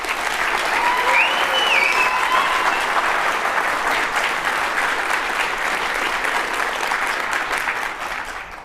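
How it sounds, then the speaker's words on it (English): Sustained applause from a conference audience at a closing session, loud and steady for about eight seconds before tapering slightly at the end, with a few faint whistles mixed in. "So big round of applause to Joe and Mache,"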